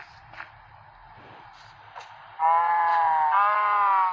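A sheep in a Minecraft game gives one loud, close bleat after a few faint scattered sounds, and no one speaks over it.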